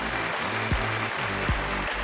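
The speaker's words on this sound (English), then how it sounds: "a huge round of applause for Perspectives 2025 Mumbai" An audience applauds steadily at a panel discussion during the Perspectives 2025 event for Arena Animation in Mumbai, the dense clapping continuing throughout with a low sustained tonal backing beneath it.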